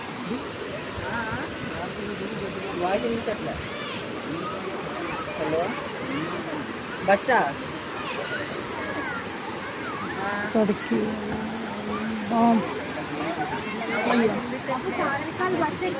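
A waterfall at a tourist spot near Araku rushes steadily in the background, a broad continuous roar under lively nearby conversation and occasional louder voices.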